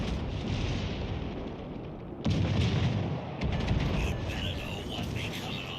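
Battleship guns boom in the World of Warships Legends game, heavy low blasts arriving in two bursts over a constant rumble of engine and battle noise, with game sounds layered above.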